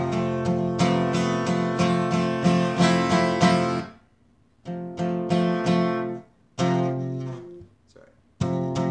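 A guitar strums chords from a song in bursts of rhythmic strokes, played close and clear, with short pauses where the playing stops and starts again.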